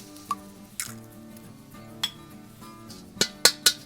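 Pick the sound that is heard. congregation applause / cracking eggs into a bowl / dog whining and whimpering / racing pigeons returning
cracking eggs into a bowl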